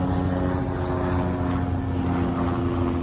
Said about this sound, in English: And then helicopter up there, see it?